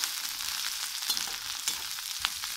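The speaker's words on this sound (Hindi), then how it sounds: "अब हम इसे फ्राई करेंगे। हम इसे 2 मिनट फ्राई करेंगे।" Vegetables with chopped carrot fry for gobhi manchurian, giving a steady close sizzle with a few sharp pops and spoon scrapes.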